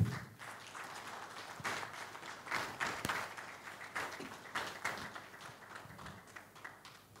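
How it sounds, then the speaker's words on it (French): Clapping from a studio audience on a Congolese radio program, a moderate, fairly even patter of hands continuing for several seconds, somewhat distant and soft. "Je vous demande de saluer, d'applaudir M. Dieudonné Kassembo"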